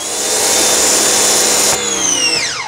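Ryobi 2000 power washer spraying a birdcage screen, a loud steady hiss of pressurised water with a high motor whine that drops in pitch as it winds down at the end, close by with no talking.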